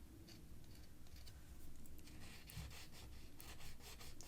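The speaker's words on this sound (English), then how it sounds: "if you want to rub this off, you can while it's still wet" Wet paint is rubbed off a piece of cardstock, giving close, dry scrubbing and rasping strokes in an uneven back-and-forth rhythm, fairly quiet with no voices.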